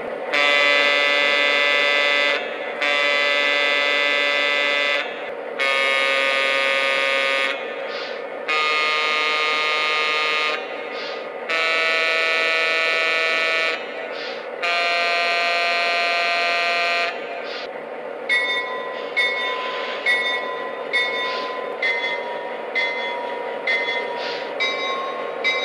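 Electronic horn and bell tones from a Lionel model train's sound system play in a sequence of loud, sustained blasts separated by short pauses, followed by a quicker series of ringing bell tones toward the end.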